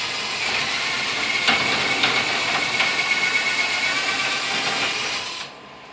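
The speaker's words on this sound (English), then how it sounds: "start my drilling" A power drill bores steadily through a wooden model railroad table to make holes for bus wires, a continuous close whine with slight grinding fluctuations that cuts off abruptly near the end.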